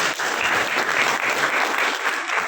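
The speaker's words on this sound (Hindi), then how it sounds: "जावेद हुसैन भाई ने जो काम किया है उनके लिए भी तालियां तो बजनी चाहिए।" An audience claps at a devotional song launch event, a dense, even applause that fills the whole stretch at steady loudness with no voices above it.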